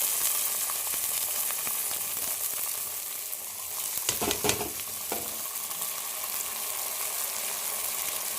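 Chana dal and tomatoes frying in a pan, a continuous close sizzle with a brief burst of stirring clatter midway.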